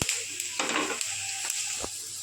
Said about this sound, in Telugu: అలానే ఇప్పుడు మిగతాయి కూడా వేపేసుకుందాం. మిగతా అన్నీ కూడా కలిపేసి వేపేసుకోవాలండి.